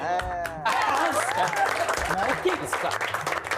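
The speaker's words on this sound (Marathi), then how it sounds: "आता या दोघांसाठी एकदा जोरदार टाळ्या होऊन जाऊ द्या" A studio audience on a Marathi TV comedy show bursts into loud, sustained clapping for two people after a brief lead-in, with voices and cheering mixed through the applause.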